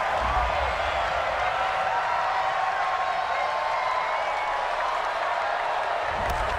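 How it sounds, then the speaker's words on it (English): A stadium home crowd roars in the football video game Madden NFL 20 with a Seattle Seahawks at Pittsburgh Steelers matchup, a steady, broad wash of cheering and applause that holds throughout. "This home crowd, they're happy with that call."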